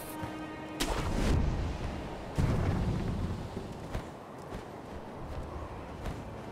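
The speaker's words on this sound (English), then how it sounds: "those firecrackers... is that what this is?" Several sharp crackling bursts go off a second or two apart over a steady noisy background, firecrackers popping in the video game Sekiro: Shadows Die Twice.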